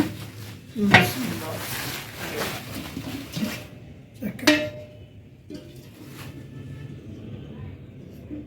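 New kitchen pots and utensils are handled up close, with a few sharp metallic clanks and knocks amid softer rustling and shuffling, while someone talks in the background.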